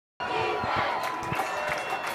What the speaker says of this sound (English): Crowd here on the Britton side, loud and having some fun.